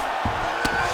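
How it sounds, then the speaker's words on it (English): Steady, diffuse crowd noise from a virtual arena audience in EA Sports UFC 5 during a Strickland versus Du Plessis fight, a constant broadband roar with two brief thuds over it. "So the crowd absolutely loving it as these fighters work their way back to the feet."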